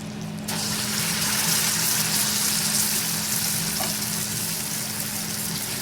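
Dahi vada lentil dumplings are dropped into hot oil and fry with a loud, steady sizzle that starts abruptly and continues unbroken, close up.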